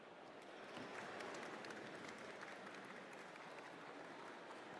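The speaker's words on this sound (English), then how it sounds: "Let's give them a round of applause." An audience at a tech startup conference showcase claps continuously, a soft, dense wash of applause that stays even in level from start to finish.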